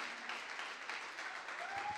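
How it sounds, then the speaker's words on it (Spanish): Steady applause from a church congregation, a dense continuous wash of many hands clapping at moderate distance, with a faint voice rising briefly near the end. "dale un fuerte aplauso al Señor"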